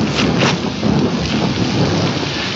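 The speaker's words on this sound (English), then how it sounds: "The rain's back." Rain pours down steadily in a forest with rolling thunder, a loud, dense downpour broken by deep rumbles, with no voices heard.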